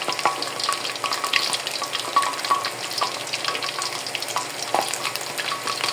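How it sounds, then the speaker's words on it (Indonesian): Eggplant frying in hot oil gives a steady, crackly sizzle with scattered pops and stirring clatter, close and continuous throughout without any talk. "Goreng saiki"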